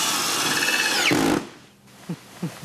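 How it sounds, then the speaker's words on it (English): A power tool, probably a drill, runs loud and steady for about a second and a half, its pitch sliding as it winds down, before it stops abruptly and a few soft knocks follow. "What is it about power tools?"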